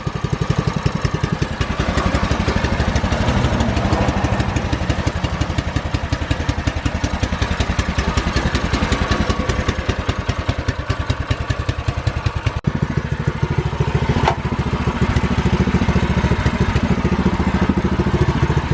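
A Predator 212cc small engine, swapped into a ride, runs steadily while warming up, a loud close chugging idle with a rapid even firing pulse that holds for nearly twenty seconds, a slight shift in tone partway through.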